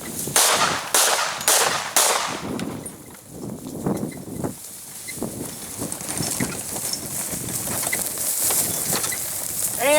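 Gunshots ring out as a handgun is fired at an angled target from a golf cart outdoors, several sharp cracks in quick succession at the start, then quieter scattered reports and rustling with no talking.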